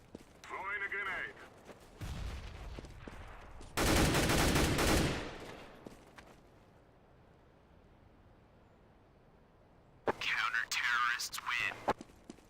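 Counter-Strike: Global Offensive match with loud bursts of gunfire and a heavy grenade blast, followed by a quieter lull, then another rattling burst of shots near the end.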